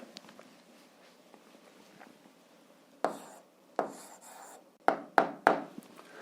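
Pen scratching out an answer on paper during an algebra lesson, quiet at first, then a few short bursts of strokes close up, with no talking.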